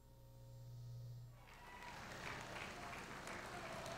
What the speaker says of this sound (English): Hear that applause?